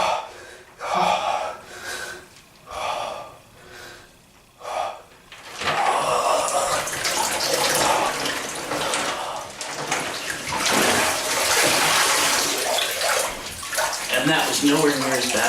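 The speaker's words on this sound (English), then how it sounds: "The rest of my body's going under the water for a few seconds." A person lowers their body into an ice bath: several sharp gasping breaths come first, then a loud sustained rush and slosh of water as they go under.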